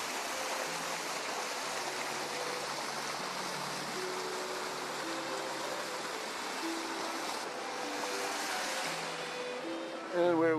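Water of a mountain stream flows along a trail near a ford, a steady, moderate rushing wash that continues throughout, with faint tonal sounds drifting in and a brief bump at the very end.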